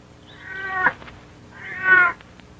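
A domestic cat meows twice in succession, each call rising and then falling in pitch, close and clear against a quiet indoor background with no talking.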